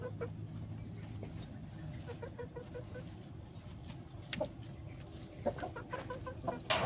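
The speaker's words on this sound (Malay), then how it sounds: "Ayam jinak guys." Tame chickens clucking around a coop, soft scattered clucks and short calls that grow a little louder toward the end, over a quiet outdoor background.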